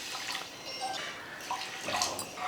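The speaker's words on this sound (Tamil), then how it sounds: "பாசிப்பருப்பு எடுத்த அதே கப்பில் 2 கப்பு வந்து தண்ணி சேர்த்துக்கலாம்." Water poured into a cooking pot holding sago pearls and moong dal, a light splashing and trickling pour with a few brief louder surges, close by with no talk.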